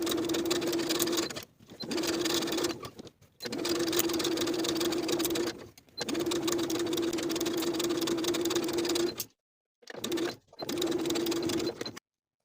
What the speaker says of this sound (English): I'm going to edge stitch along that inner folded edge from one side all the way around to the other.